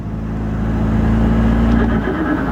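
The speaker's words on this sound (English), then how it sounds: "just cruising, letting the car do its thing" A BMW F30 with flashed transmission cruising in comfort mode, steady low engine drone and road rumble from inside the cabin, constant and fairly loud, easing slightly near the end.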